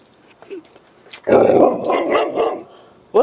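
Roxy the dog lets out a close, loud growling bark-like vocalization lasting about a second and a half, with faint small sounds before it and no one speaking.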